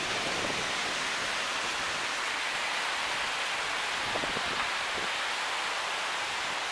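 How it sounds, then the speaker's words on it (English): Heavy rain pours down during a windy storm, a dense, constant hiss that stays loud and even throughout with no pauses. "right as it started pouring rain. It's pouring, it's really windy."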